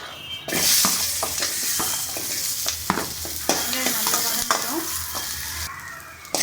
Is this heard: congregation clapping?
no